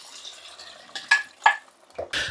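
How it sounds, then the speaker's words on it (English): Vegetable stock made from stock cubes and boiling water goes into a hot pan of roasted pumpkin soup, giving a soft sizzle and stirring scrapes with a few sharp clinks of utensils, close and fairly quiet. "I've just made up a vegetable stock using 2 stock cubes for a litre of hot boiling water, which we're going to add to the pan."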